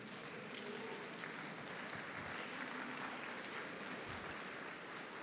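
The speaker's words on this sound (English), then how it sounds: "Big applause to Hotech." Conference attendees at the Eurocrypt 2016 rump session applaud their co-chair, a sustained, fairly quiet patter of many hands clapping in a hall, steady and unbroken for several seconds with no speech.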